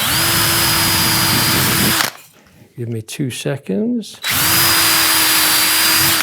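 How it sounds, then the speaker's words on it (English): A power drill whines loudly as it bores through a piece of wood for a French cleat, stops while someone speaks briefly, then starts again at full speed. "this piece, we drill a hole through"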